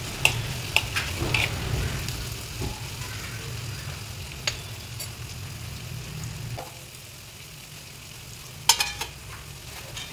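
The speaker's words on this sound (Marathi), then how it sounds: "तिकडे कांदा परततोय" Onions sautéing in hot oil in a home kitchen while mutton curry is prepared, a steady close sizzle with occasional scraping clicks of a spoon against the pan, easing slightly quieter toward the end.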